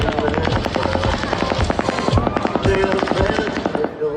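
A recording of gunfire at a Las Vegas concert has rapid bursts of shots cracking in dense, rhythmic volleys. The sound is loud and continuous, with voices mixed into the din.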